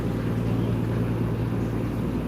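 Heavy cargo ferry engine on the river in Bangkok, a steady low diesel drone with a throbbing rumble, close and continuous throughout, slow and laboring while towing containers.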